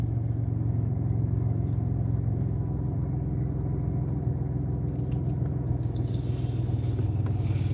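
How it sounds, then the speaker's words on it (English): A Chevrolet Impala on the road gives a steady, loud low rumble of engine and tyre noise throughout, with no real changes in pace. "We're driving an Impala"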